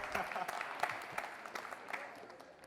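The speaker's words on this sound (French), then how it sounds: "Applaudissements pour lui, s'il vous plaît." An audience at a French high school quiz competition applauds after a correct answer, a dense patter of clapping that slowly fades, with a voice speaking over it.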